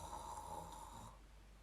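A person sleeping at night lets out one loud, close snore with a harsh, rattling drone that fades away at the end.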